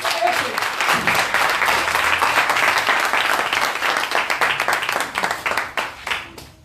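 A church congregation bursts into loud, sustained applause, a dense wall of clapping hands with a few voices mixed in, fading slightly toward the end.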